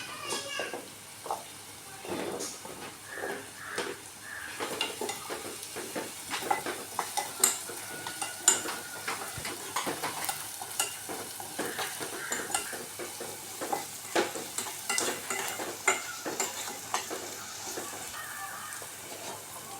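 Small shallots sizzling in hot oil in a pan for chicken curry while a spoon stirs them, with a steady close frying hiss, frequent scraping and clinking against the pan, and no voices.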